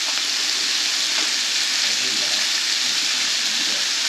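Chicken gizzards and mushrooms sizzle steadily in a smoking-hot frying pan, a loud, dense, unbroken crackle and spit with faint stirring.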